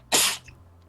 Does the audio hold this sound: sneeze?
yes